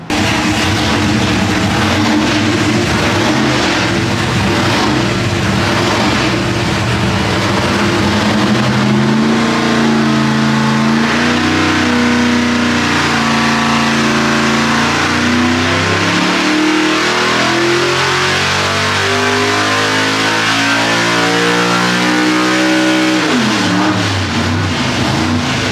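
A methanol-fuelled big block Chevy V8 on a dyno revs through a long pull, its loud roar climbing steadily in pitch toward the top end, then dropping sharply as the throttle closes near the end.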